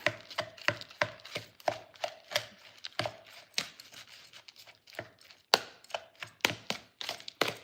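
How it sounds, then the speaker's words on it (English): Salad ingredients, breadcrumbs and smashed croutons tossed together in a bowl make a close run of irregular knocks and dull clacks, a few louder thumps standing out, with no talking. "I'm gonna mix all this together."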